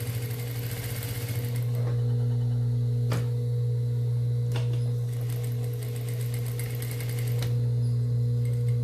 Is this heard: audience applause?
no